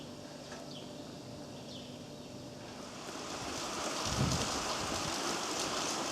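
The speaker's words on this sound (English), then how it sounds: "it's raining." Steady rain falls outdoors along the Portuguese Camino de Santiago route between Lisbon and Porto, a broad even hiss that grows a little louder and fuller after the midpoint, with a brief low rumble near the end and no talking.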